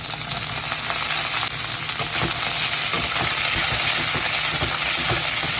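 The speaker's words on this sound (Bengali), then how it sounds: "এইবার দিয়ে দেবো এই পেঁয়াজগুলো।" Onions go into a pan already frying with ginger and garlic for a chilli dish, giving a loud, continuous, close-up sizzle and crackle with faint scrapes throughout.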